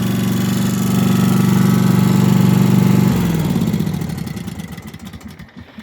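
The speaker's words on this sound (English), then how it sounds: "So pull out, let the plastic levers catch the metal inside, then you pull. That's how you start it." A walk-behind lawn mower engine runs loud and steady with a strong low hum for about three seconds, then slows and sputters into uneven chugging as it winds down, close to the microphone.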